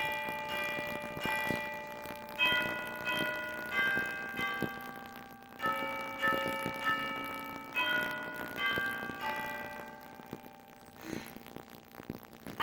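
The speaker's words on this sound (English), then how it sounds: "It's Saturday night. You can hear the bells ringing." Church bells ring on a Saturday night in a steady, repeating pattern of overlapping metallic strikes, distant and faint, with their tones hanging and blending throughout.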